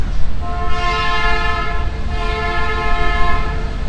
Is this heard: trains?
yes